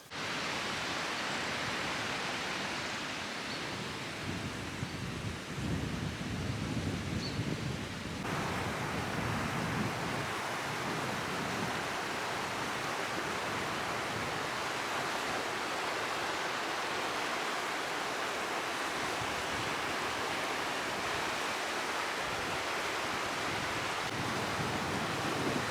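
A babbling brook in the Forest of Bowland flows beside a small hillside path, giving a steady, loud, broadband rush of running water that carries on without pause for the whole stretch, with no voices over it.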